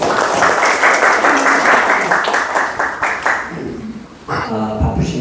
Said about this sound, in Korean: 자, 우리 이사장님 박수 한번 부탁드립니다.